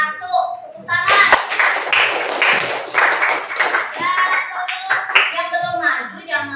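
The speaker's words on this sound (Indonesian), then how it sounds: "Tepuk tangan." Classroom clapping by a group of pupils at the teacher's call, a burst of hand claps lasting several seconds with children's voices and chatter mixed in.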